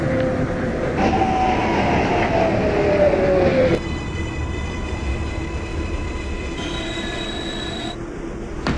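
An R142 subway train runs on the 6 line in the OpenBVE simulator. Wheels squeal with a tone that slides downward over a steady rolling rumble, then give way to even running noise with high electric whines.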